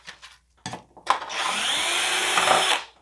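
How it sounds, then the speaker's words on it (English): A power drill bores a pilot hole in a wooden holiday ornament, whining steadily for about two seconds after a couple of brief starts, close and loud with no talking. "Okay, so I'm gonna take that drill out."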